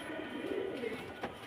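Pigeons at a pigeon farm give a soft, low cooing over steady background hum, faint and somewhat distant, with no talking.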